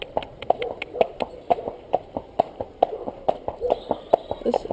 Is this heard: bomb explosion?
no